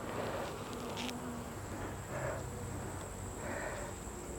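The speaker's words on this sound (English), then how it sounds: "there's enough bees in here" A steady, dense buzz of many honey bees inside an open, queenless hive fills the space, continuous and close, with no voices.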